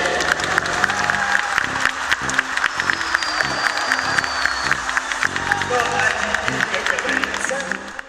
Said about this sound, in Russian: Давайте поможем Владимиру разбудить его аплодисментами.